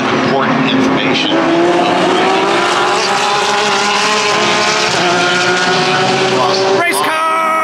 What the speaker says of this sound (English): Race cars! I love race cars!